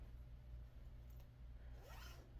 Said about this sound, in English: they zip up the front